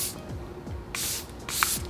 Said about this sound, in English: I use the Airbrush setting spray from Charlotte Tilbury